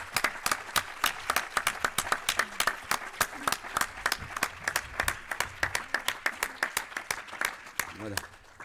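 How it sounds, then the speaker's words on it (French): Audience applause rings out at a French Christian faith gathering, a steady run of sharp, distinct claps keeping up for about eight seconds, with a brief voice near the end. "Et un grand applaudissement pour les Dominies"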